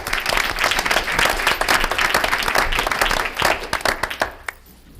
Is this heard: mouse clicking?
no